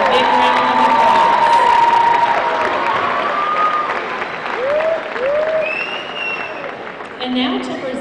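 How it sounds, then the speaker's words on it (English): A crowd at a high school basketball homecoming applauds and cheers loudly, with whoops and shouts rising over the clapping before it gradually thins out. "please give your 2012 CCHS basketball homecoming court a big round of applause"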